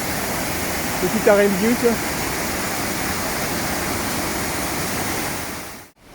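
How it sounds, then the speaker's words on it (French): The Cascade du Dard waterfall near Chamonix gives a constant, broad roar of rushing water that fills the air, with a person briefly speaking over it before the sound cuts off at the end. "On l'entend là, tout près. Alors on approche de la cascade du Dard"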